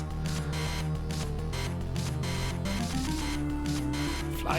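Video game music with a printer-like character plays loudly and continuously, a dense mechanical buzzing, whirring loop with a steady pulse and no voices.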